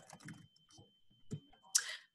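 Someone typing on a computer keyboard while writing Python code, a few quiet, scattered key clicks in short bursts with gaps between them, close and faint.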